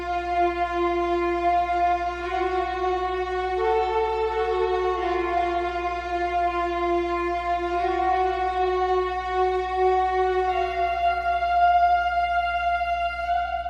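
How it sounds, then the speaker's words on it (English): A sustained synthesizer pattern with bright, buzzy held tones that shift pitch every few seconds over a steady low drone, with no voices. "For the chorus, I have a BA1 synth with this pattern here."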